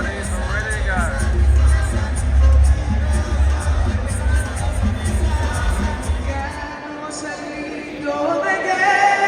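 A packed arena crowd roars and cheers as Canelo Alvarez makes his entrance on Canelo vs. Berlanga fight night, the noise thick with babble and a heavy pounding bass that cuts out near the end.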